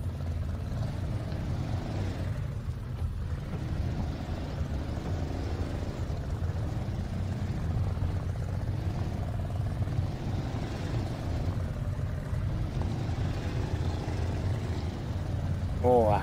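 A Western Star truck in the MudRunner American Wilds video game drones with a deep, continuous engine rumble, steady and heavy throughout, while someone talks over it.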